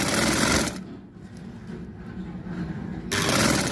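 Sewing machine running as it stitches fabric, a steady rapid mechanical whir that drops to a softer hum partway through, then returns to full speed, close and alone with no talking.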